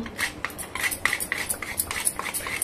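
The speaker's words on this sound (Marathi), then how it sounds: "हे जायफळ आहे ना ते खिसणीने खिसून टाकूया थोडं" Nutmeg grated on a hand grater for a raw mango sakhar amba: quick, close scraping strokes in an uneven rhythm, bright and rasping with small metallic clinks, heard alone.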